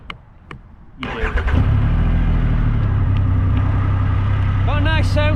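A Triumph Rocket 3 Storm motorcycle engine cranks and catches, then settles into a loud, close, throbbing idle with blips of revs, while a person speaks briefly over it.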